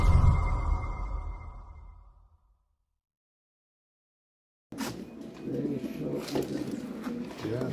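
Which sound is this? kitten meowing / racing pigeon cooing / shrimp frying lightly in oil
racing pigeon cooing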